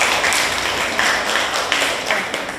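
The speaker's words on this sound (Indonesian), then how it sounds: "Kita beri tepuk tangan buat kelompok 1." Classroom applause for a student group after their presentation, a steady dense patter of many hands clapping that holds at an even level throughout.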